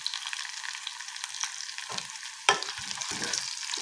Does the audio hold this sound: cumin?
yes